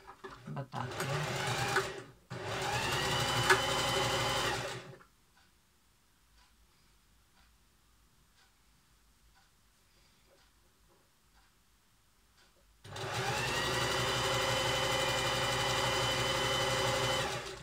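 A sewing machine stitches leftover fabric into a cushion cover, running loud and close in two quick bursts, then falling quiet for several seconds before a long steady whirring run.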